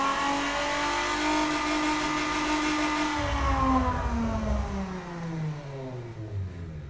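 A video-game car engine built in Automation revs up hard and then winds down, its pitch sweeping upward and falling away over several seconds. The sound is loud and up front, with no voices.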